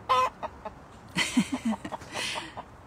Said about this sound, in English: Can you hear the chicken clucking?